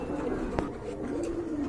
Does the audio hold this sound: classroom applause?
no